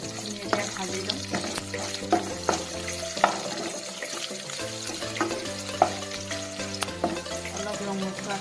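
Onions fry in a pan with ginger, garlic, cloves, cardamom and cinnamon for a fish curry, sizzling steadily and loudly up close, with regular scraping stirs.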